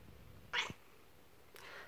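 Pet cats in an apartment give a short meow, a brief close call followed later by a softer faint sound in a quiet room, with no talking.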